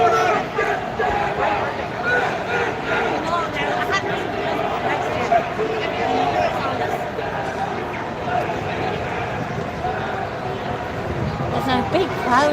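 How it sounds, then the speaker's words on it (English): A large street demonstration crowd in Dublin fills the air with a steady murmur and babble of many voices, with nearer people talking over the dense hubbub. "There's a big crowd here."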